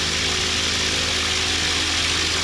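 A microlight aircraft engine runs up during a magneto power check, a loud, steady, close propeller drone with a harsh buzzing edge that holds constant throughout.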